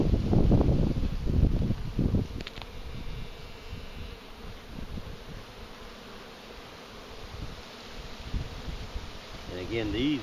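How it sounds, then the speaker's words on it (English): A dense, steady hum of honeybees fills an opened beehive during bottom supering for brood nest expansion, heard up close with some handling rustle and bumps early on. "Busy bees."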